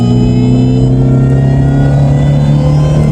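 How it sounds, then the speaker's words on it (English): A supercharged Ford Shelby GT500KR V8 pulls hard in fourth gear, its steady loud engine drone rising with a thin supercharger whine layered on top, heard from inside the car. "Oh yeah, you get that supercharger whine."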